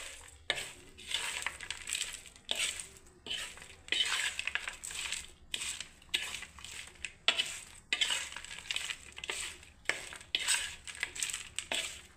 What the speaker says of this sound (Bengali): চাট মশলা দিয়ে আমি আরেকবার বন্ধুরা ভালোভাবে নেড়ে দিচ্ছি।